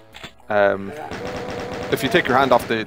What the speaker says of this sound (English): And just be careful with the chain gun